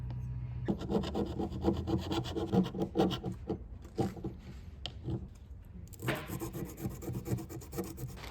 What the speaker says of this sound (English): sitting there with a stick, a piece of sandpaper, scrubbing on all those flutes